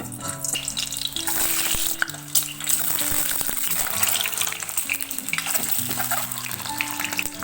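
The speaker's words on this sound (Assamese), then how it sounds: "তেলখিনি গৰম হৈ গৈছে, এতিয়া ডিমকেইটা ফ্ৰাই কৰি লওঁ।" Eggs frying in hot mustard oil in a kadai, a continuous crackling sizzle with bursts of spattering and faint background tones, no voices.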